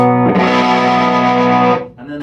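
Electric guitar played through a vintage MXR Distortion+ pedal, giving a loud, buzzy, sustained distorted chord that rings for over a second before a second, quieter chord starts.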